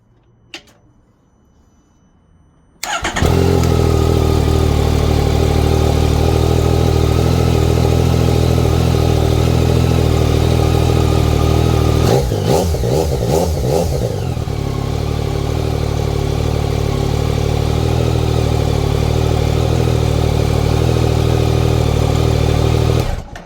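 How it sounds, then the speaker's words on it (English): Motorcycle engine cranking and firing up on a rebuilt DIY lithium battery pack, then settling into a loud, steady idle close by, with a brief rev partway through. "it started the bike with no hesitation"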